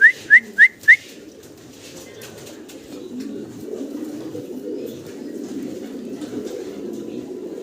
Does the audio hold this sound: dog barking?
no